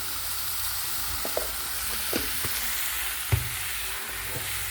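Sweet potato leaves sautéing with tomato, turmeric and spices in a pan, a steady close sizzle with a few soft stirring knocks and scrapes, no voices.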